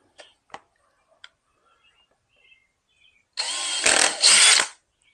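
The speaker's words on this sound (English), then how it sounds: "So I'm just going to take my drill those out real quick" A handheld power drill bores out push pin holes in the splitter of a BMW M235i F22. A few faint ticks come first, then a loud, close whirring burst of about a second with a brief surge in the middle.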